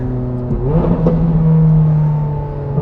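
A 2009 Ferrari 430 Scuderia, the track-focused F430, revs loudly beneath an underpass, its engine note climbing in a strong sustained surge that holds, then eases slightly toward the end.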